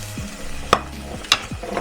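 Finely chopped onions frying in hot oil close by, with a few clinks and scrapes of a spoon stirring the pan.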